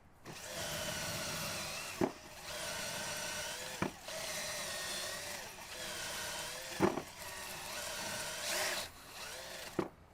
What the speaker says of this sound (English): so now I'm just going to take that drill bit and just run it up through there and get the rest of that insulation out of there